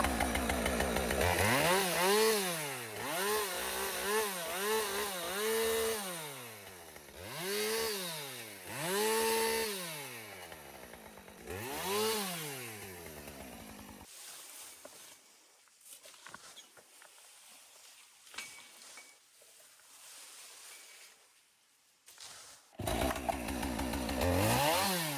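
A chainsaw cuts up a felled tree outdoors in Akita, Japan, revving in repeated rising and falling bursts for about fourteen seconds, then going quiet apart from scattered small knocks before one last brief rev.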